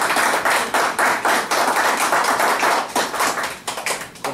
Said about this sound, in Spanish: creo que un aplauso para